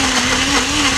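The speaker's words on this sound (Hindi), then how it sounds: "घबराओ मत, ग्राइंडर है" A mixer grinder whirs loudly and steadily as it blends a smoothie, a dense, unbroken motor roar with a constant hum.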